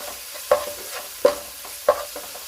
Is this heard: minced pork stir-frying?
yes